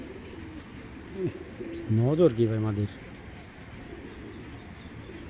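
A Giribaz pigeon gives a short, throaty coo, a couple of rising and falling bursts close by, while someone talks before and after it.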